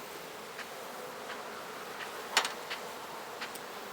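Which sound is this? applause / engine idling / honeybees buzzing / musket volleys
honeybees buzzing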